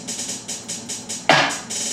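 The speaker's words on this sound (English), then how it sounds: "Hi-hats and the clap mixed together." Hi-hat and clap samples mixed together in a simple beat pattern: a steady run of quick, hissy hi-hat ticks roughly every quarter second, with one sharper, brighter clap landing near the end.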